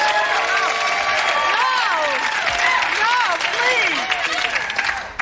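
A TV sketch-comedy studio audience applauds and cheers loudly and continuously, with voices rising over the clapping before it starts to taper off at the end.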